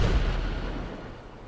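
The railgun cannon of a Khanjali tank in GTA 5 fires with a heavy booming blast that rolls off into a low, fading rumble, loud and close with no talk over it.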